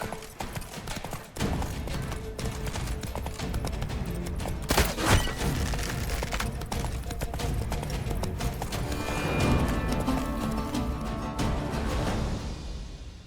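Hooves of a galloping horse in The Witcher 3: Blood and Wine clatter in a steady, rapid rhythm under dense, loud game sound, continuing throughout with a brief heavier thump midway.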